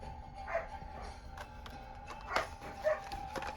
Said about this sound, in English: Dogs are barking at everything.